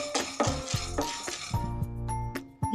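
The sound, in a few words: roasting chana dal and urad dal in a pan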